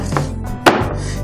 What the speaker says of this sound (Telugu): ఈ వెల్లుల్లి రెబ్బల్ని ఇలా లైట్గా క్రష్ చేసి వేసుకుంటే బాగుంటుంది